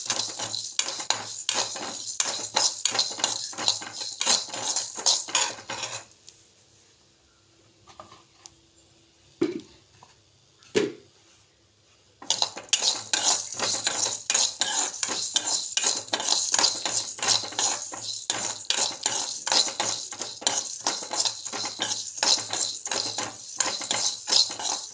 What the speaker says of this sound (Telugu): ఇప్పుడు ఇందులోకి ధనియాలు, జీలకర్ర కూడా వేసుకుందాం. ఇది కూడా కొంచెం ఫ్రై అయ్యేలా చేద్దాము.